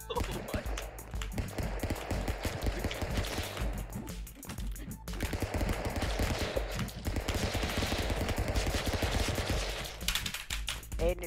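Rapid gunfire rattles through a Stick Fight game match, dense bursts of shots running almost continuously with a brief gap midway, loud and up close.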